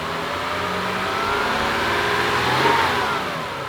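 A Lexus engine runs steadily close by with a large screwdriver left inside the engine bay, its mid-pitched drone swelling slightly as if revved, then easing back, with no talking.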